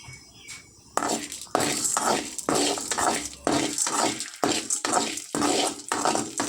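Chana dal and urad dal roast in a metal kadai, with a rough rattling scrape of lentils being stirred repeatedly, loud and close, after a quiet start.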